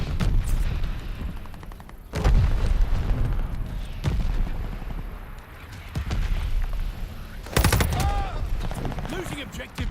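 Booming mortar barrage blasts and rattling gunfire in the World War II shooter Call of Duty: Vanguard, with several heavy impacts around 2, 4 and 7.5 seconds over a continuous battle din.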